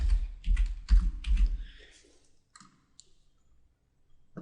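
Computer mouse clicks and keyboard typing while creating an email label, a burst of rapid close clicks and key taps that thins out into a few scattered clicks.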